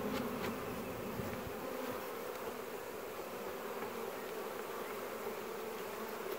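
Honey bees from a weak laying-worker hive buzz in a steady, dense drone up close, a continuous swarm hum with no talking.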